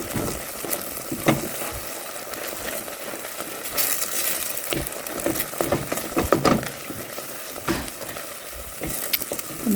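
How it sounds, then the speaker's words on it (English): Flour is stirred into hot fat in a pan to make a roux: a steady close sizzle runs throughout, with scraping stir strokes rising and falling, and no talking. "in goes the flour. Stir it around. It's going to make a roux"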